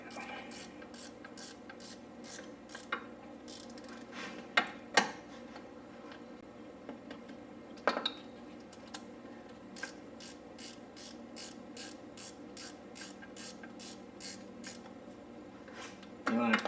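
Steady rapid clicking of a ratchet tightening the crank pulley bolts on an Audi A4 2.0T, even ticking strokes in long runs with a few louder knocks, close and alone.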